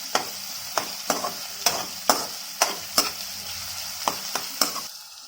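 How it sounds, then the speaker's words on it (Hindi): Chicken Manchurian pieces frying in a pan until light brown, with a steady sizzle punctuated by about a dozen sharp, regular scraping stirs of a spatula, close and clear with no talking. "इसे लाइट ब्राउन होने तक फ्राई करनी है"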